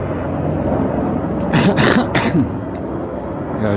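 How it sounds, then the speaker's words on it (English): A man coughs nearby outdoors at Casa Loma, two or three harsh bursts in quick succession over a low steady background rumble. "Yeah, it's me coughing."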